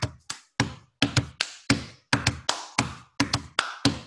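Hands clap on a lap as percussion in a song, giving about fourteen crisp, close slaps in an uneven, syncopated rhythm with short silences between them.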